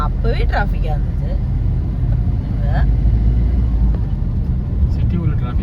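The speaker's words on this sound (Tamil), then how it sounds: "சிட்டி உள்ள டிராஃபிக்" City road traffic rumbles steadily around a moving car on a drive towards Avadi, with engine drone and passing vehicles close by, and people talking over it throughout.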